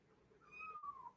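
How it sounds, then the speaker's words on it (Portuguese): A pet kitten meows indoors, one drawn-out rising then falling meow, fairly clear and close, with no talk over it. "Minha gatinha está miando aqui"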